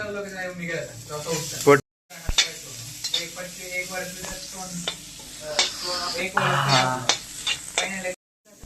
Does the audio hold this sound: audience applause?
no